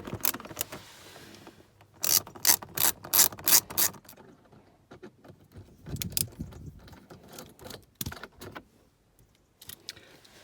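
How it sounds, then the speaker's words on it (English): A driver clicks and ratchets while T20 screws are taken out of a light fitting in a Vauxhall Vivaro camper van. A quick run of sharp metallic clicks is followed by scattered rattles and scrapes, close by and without speech. "you're going to take out these T20s screws here and on the other side"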